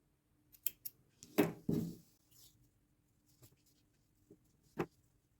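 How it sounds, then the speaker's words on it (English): Scissors snipping yarn at the end of a crochet gingerbread applique: a few quiet, close, crisp cuts and handling clicks in an otherwise silent room. "cut the yarn a bit longer"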